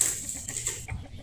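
A chicken clucks briefly nearby, a few short throaty notes against faint background noise.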